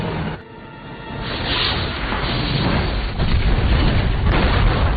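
A film explosion blows up a giant crocodile trapped in a swamp, a loud sustained booming rumble and roar building over several seconds with no talk.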